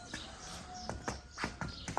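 An Ardennes draft mare walks on a hard surface nearby. Her hooves clip-clop in a slow, uneven rhythm over quiet background sound.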